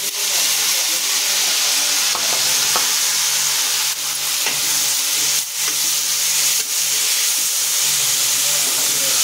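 Onions and green chillies fry in hot oil with a loud, close, hissing sizzle that holds steady throughout, marked by a few faint stirring clicks.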